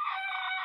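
A Boston Roundhead cross rooster crows on a mountainside cording area: one short, loud, harmonic call that holds steady throughout and is heard alone.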